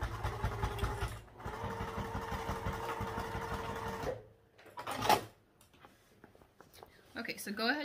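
Sewing machine stitching the boxed corners of a crossbody bag, a close, steady mechanical whir for about four seconds, then stopping, followed by brief handling noises and quiet talk.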